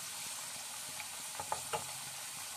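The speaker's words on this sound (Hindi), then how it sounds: "मीडियम फ्लेम पे हम इनको फ्राई करेंगे ताकि हमारी सब्जियां कच्ची ना रहें" Vegetable pakoras, crispy fritters, deep-fry in oil over a medium flame with a soft, continuous bubbling hiss and a few faint spoon taps near the end. No one speaks.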